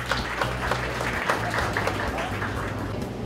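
A conference audience at an environment and circular economy symposium claps to welcome a speaker, giving sustained, dense applause from many hands at moderate loudness, with a low hum running underneath.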